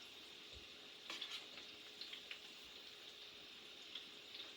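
Latkes crisping in a frying pan give a faint, quiet sizzle with sparse small pops and crackles scattered across a few seconds.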